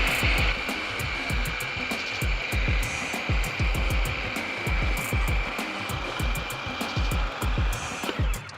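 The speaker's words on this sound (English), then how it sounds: "We're gonna let this go for a couple more minutes and make sure it blends completely." Food processor blending roasted red pepper hummus in a kitchen, a steady whirring motor drone with a constant high whine and rapid rhythmic thumping as the thick mixture churns, running alone without talk.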